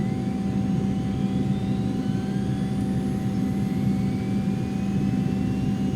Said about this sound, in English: let's go ahead and start the left side engine